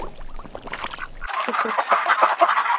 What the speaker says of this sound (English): We're ducks.